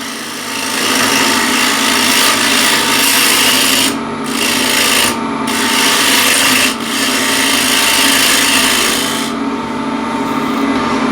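A spindle gouge trues up a wooden piece spinning on a woodturning lathe, giving a continuous loud scraping, rasping cut with the hum of the lathe beneath and a few brief lifts of the tool.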